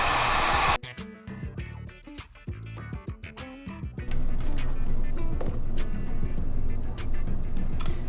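A heat gun blows hot air to shrink tubing over speaker wires for a car stereo install, a steady close hissing whoosh that cuts off briefly, then resumes after a series of clicks and knocks.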